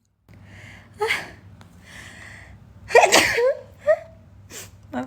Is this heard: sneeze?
yes